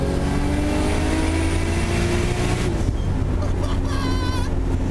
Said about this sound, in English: We're firing up the LS1.